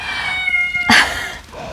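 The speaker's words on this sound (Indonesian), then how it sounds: "mungkin sedikit diiringi oleh tangisan anak kucing" A single short, high kitten meow rises briefly over a steady background hum, fairly close and moderately loud.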